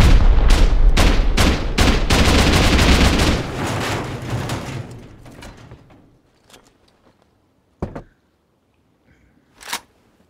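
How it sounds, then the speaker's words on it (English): Rockets launch and detonate in rapid succession during a Rust raid on a castle base, a dense barrage of heavy booms and crackling blasts that fades into rumbling debris, followed by two isolated sharp impacts in near silence. "Alright, I'll send a rocket down."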